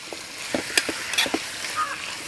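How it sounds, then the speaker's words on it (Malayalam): Chicken pieces being stirred in hot coconut oil in a pan, a soft sizzle with a few quick scraping strokes over a short moment, close by. "വെളിച്ചെണ്ണ എല്ലാ ഭാഗത്തേക്കും കൂടെ ആവുന്ന രീതിക്ക് ചിക്കൻ ഇളക്കി കൊടുക്കാം"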